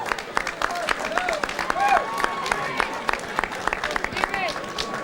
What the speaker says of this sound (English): They both deserve a big round of applause for the commitment they showed out there.